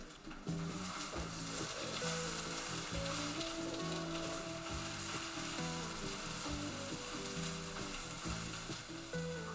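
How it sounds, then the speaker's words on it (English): Spinach frying in a pan for gluten-free spinach puffs: a constant loud close sizzle mixed with a low rhythmic mechanical chugging, with no talk. "Now that all the spinach is in the pan, it's cooked down a lot"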